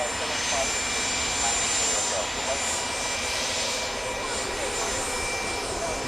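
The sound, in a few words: Dornier aircraft engine, operated by Sun Air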